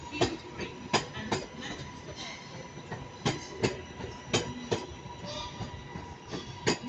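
A Northern Service train rolls through Manchester Piccadilly station, with a steady rumble and regular clickety-clack wheel beats over the rail joints, heard at moderate distance.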